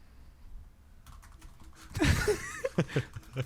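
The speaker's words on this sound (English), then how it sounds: "What are you typing?" Quick bursts of typing on a computer keyboard, irregular key clicks clustering in the second half, fairly close and moderately loud, with faint background sounds and no talk.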